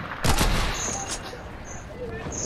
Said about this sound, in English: are you guys shooting me?